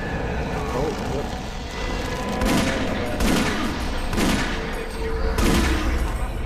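Gunfire at an enemy in the VR game Doom 3, several heavy blasts spaced about a second apart over a steady droning background, with a voice talking between them.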